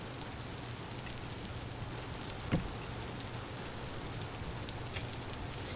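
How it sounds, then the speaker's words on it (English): Rain falls steadily in the video game Vintage Story as a continuous soft patter, even and unbroken, with one brief louder tap partway through. "And it's raining out, so we have to do this undercover."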